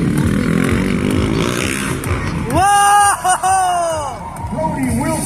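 Motocross motorcycle engine revving hard at a stadium freestyle show at the Calgary Stampede, loud and close with rising, falling rev sweeps, under an excited announcer and a noisy crowd.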